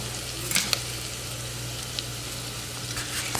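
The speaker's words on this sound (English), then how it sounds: "So we're gonna add a little bit more butter." Butter sizzles and fries steadily in a pan, a soft continuous crackle with a low hum beneath and a few faint clinks, heard alone without talking.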